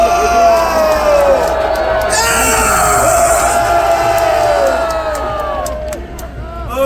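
A large outdoor political rally crowd near Hangangjin Station in Seoul cheers and shouts loudly with whoops and dense babble throughout, the roar holding steady before easing slightly near the end.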